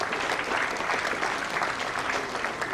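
A dense, loud round of audience applause for a guest speaker at a green assembly event, continuous clapping from a crowd that stays level throughout, with no talking.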